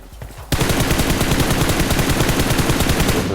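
Rapid automatic gunfire from PUBG Mobile at a fast fire rate, a loud, steady stream of evenly spaced shots bursting in after a brief quiet and continuing without pause.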